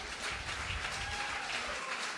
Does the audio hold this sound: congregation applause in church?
yes